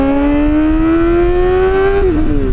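A Kawasaki ZX-4RR with an unrestricted aftermarket exhaust holds a loud, steady, very high-pitched rev that climbs slowly, then dips and wavers briefly near the end, close by with no voices.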